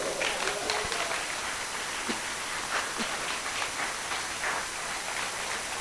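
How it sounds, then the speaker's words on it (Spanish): Church congregation clapping for God during a sermon, a dense steady wash of many hands throughout, sounding somewhat distant and rain-like. "A su nombre, brindo un aplauso a Dios."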